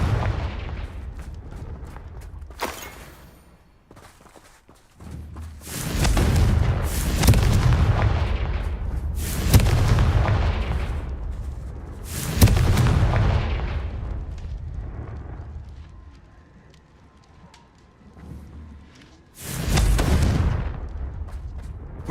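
Repeated booming explosions from the Confringo fire spell in Hogwarts Legacy, about five loud blasts spaced a few seconds apart, each rumbling and fading, with quieter gaps between.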